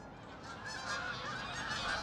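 A large flock of geese flies in overhead, a dense chorus of overlapping honks growing slightly louder from a distance, steady throughout without talk.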